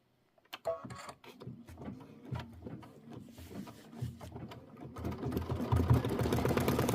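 A sewing machine stitching a lemonade quilt block runs in short irregular bursts of rapid mechanical chatter, starting and stopping, then building into a louder continuous run toward the end, with no one speaking.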